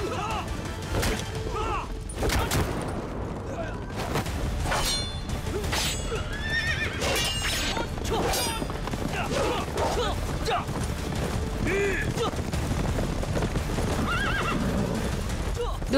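Horses neigh and gallop in a historical drama scene, with loud whinnies and a fast clip-clop of hooves over a dense busy background, while people speak over the action.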